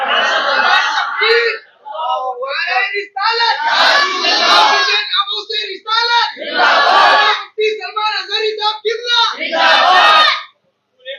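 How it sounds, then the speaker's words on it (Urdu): A large crowd chants devotional religious slogans in loud, repeated bursts, with roaring waves of many voices rising and falling over several seconds and brief pauses between chants at a gathering in Hubli, Karnataka. "حضور پاک صلی اللہ تعالی علیہ وسلم کی محبت میں نعرے لگائے, میرے نعرے مت لگایا کرو"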